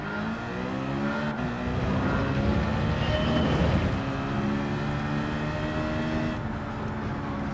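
A car engine in Gran Turismo 7 revs hard and accelerates through the gears, a loud, steady harmonic roar with pitch rising and falling across the shifts, heard alone without talk.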